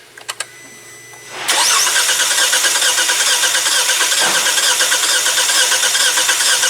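A 2017 Hyundai Tucson with a new short block and a cylinder misfire cranks in a few short clicks, then catches and runs loud and steady at a close idle for several seconds.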